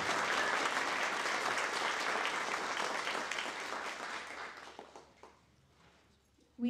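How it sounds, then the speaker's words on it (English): Dense applause from an audience at a vocational nursing pinning ceremony, loud at first and gradually thinning out into scattered claps before fading away. "Let's all give them a round of applause."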